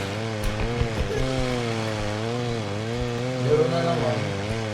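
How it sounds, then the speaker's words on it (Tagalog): A chainsaw idles and revs steadily in the video game REPO, its buzzing drone wavering slightly in pitch for several seconds, with brief clicks and faint voices underneath. "Ay, ito pala chainsaw."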